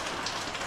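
Rain pattering on the metal roof of a van, a dense, even hiss of drops with no pauses, moderately quiet and heard alone.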